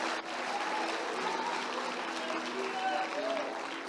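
A church congregation claps in a continuous, moderately loud wash at a worship service, with faint voices and cheers mixed into the steady applause.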